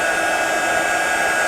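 A heat tool blows steadily while melting black embossing powder into a shimmering finish, producing a constant loud, close whooshing hiss with a steady whine and no breaks.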